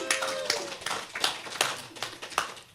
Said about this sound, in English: Give yourselves a big round of applause for supporting local music.